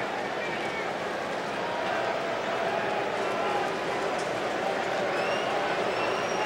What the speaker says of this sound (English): Crowd starting to get a chant of Bernie Williams.